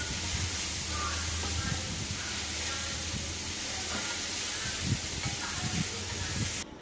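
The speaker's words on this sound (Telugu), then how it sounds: "క్యారెట్ని కూడా లో ఫ్లేమ్లో పెట్టుకొని క్యారెట్ బాగా ఫ్రై అవ్వాలి" Carrots frying in a pan over a low flame for carrot sago halwa, giving a steady, even sizzling hiss that runs the whole time, with a low hum underneath and no voices.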